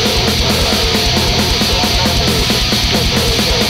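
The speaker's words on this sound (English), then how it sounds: "What you just heard is Norwegian black metal." Norwegian black metal: a dense, loud wall of heavily distorted guitars and rapid drumming, relentless and unbroken throughout the short excerpt, with no talking.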